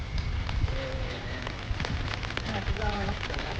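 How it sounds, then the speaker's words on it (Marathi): Heavy monsoon rain pours in Chennai, a dense, continuous patter of drops hitting the ground and surfaces nearby, while a voice speaks over it. "इथं चेन्नई मध्ये पावसाचं वातावरण लय बिकट आहे"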